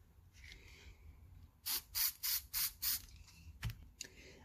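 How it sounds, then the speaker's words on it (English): Blue spray paint hissing from an aerosol can in five short, evenly spaced bursts, close and bright against a quiet room, followed by a faint click. "I'm gonna spray some blue here."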